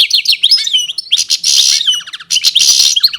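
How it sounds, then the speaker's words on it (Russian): Bright, high-pitched bird chirps and tweets in quick overlapping bursts, close and lively, with no other sounds. "озарила всю юрту веселым щебетанием"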